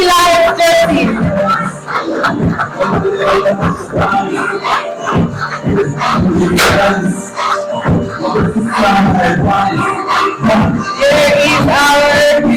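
A large crowd cheers, whoops and applauds loudly and continuously at the Lumbini Lions jersey reveal, with music and shouts layered through the din.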